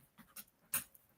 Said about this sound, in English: And the dogs are back.